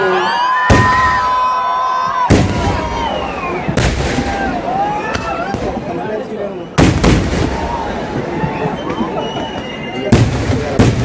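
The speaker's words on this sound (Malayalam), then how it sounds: "നമ്മൾ സാമ്പിൾ വെടിക്കെട്ട് ആരംഭിക്കുകയായി കുട്ടികളെ" Repeated loud fireworks bursts boom and crackle at irregular intervals over a busy crowd at the Uthralikavu temple festival sample fireworks, with whistling rockets and shouting voices throughout.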